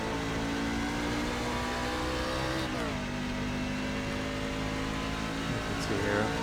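A racing truck engine in iRacing drones loudly and continuously, pitch dropping under braking with a downshift blip midway and again near the end, constant and up close throughout.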